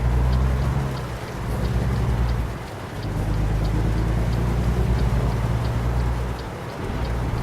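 Steady rain during a thunderstorm near Kayenta, heard from a truck as it leaves a truck stop, a dense continuous hiss with low rumbling that swells and dips over several seconds, no voices.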